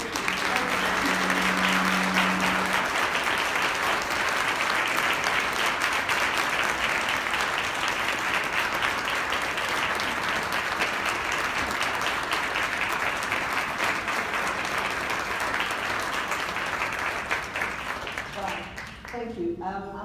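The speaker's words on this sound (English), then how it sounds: "A big round of applause." Audience applause for the panelists at the close of a panel discussion on innovation through inclusion, a steady, dense wash of clapping sustained for about twenty seconds that fades slightly near the end, with a brief tone at the start.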